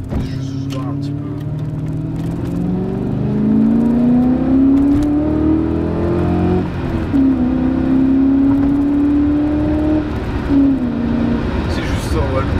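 A German 4.0-litre V8 car accelerating from inside the cabin, its engine note climbing in rising sweeps and dropping briefly at each gear shift, loud and close, with people talking over it.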